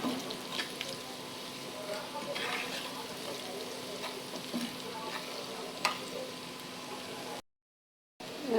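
Goat brain fries with onion, salt and spices in a pan, giving a steady close sizzle with faint stirring scrapes throughout before a short moment of silence.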